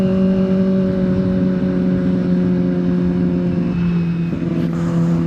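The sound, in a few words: Kawasaki ZX25R motorcycle engine revving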